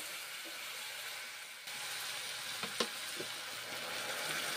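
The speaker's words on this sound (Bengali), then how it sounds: "তেল গরম করে নিলাম, কালো জিরেগুলো ভেজে নিলাম, তারপর ছোলার ডালগুলো এখন দিয়েছি।" Chana dal frying in hot oil with black cumin, a steady bright sizzle throughout that jumps louder partway through, with a few small clinks of stirring, close and alone.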